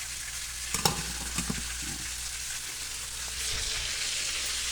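Garlic fried rice made with leftover rice, garlic, salt and seasoning stir-fries in a hot pan, giving a steady quiet sizzle with a few scraping stirs of the spatula early on. No one talks.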